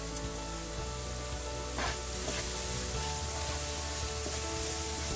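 Crushed dry red chillies and onions sauté in a pan for a red chilli beef masala. A faint, steady sizzle carries on throughout, with a few soft stirring scrapes.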